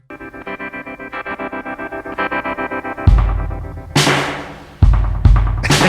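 Psychedelic rock Christmas song, drenched in reverb and effects: pulsing chorused guitar chords give way to loud distorted strums with long echoing tails.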